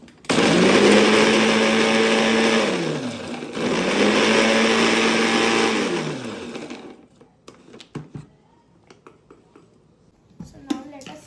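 An electric grinder whirs loudly while grinding cashews into powder for kaju katli, running in two long bursts that each wind down before a pause, followed by scattered clicks and handling noises.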